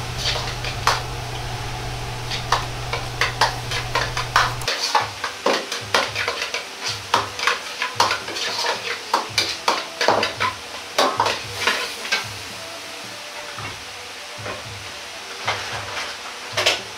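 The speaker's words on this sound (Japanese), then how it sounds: "ここでスパイスをよく炒めることで香り、辛み、色味をしっかりとつけることができます。" Spices stir-frying for butter chicken curry, with dense rapid clicks and scrapes of a spatula against the pan over a continuous sizzle, close and busy for the whole stretch, a low hum dropping out early on.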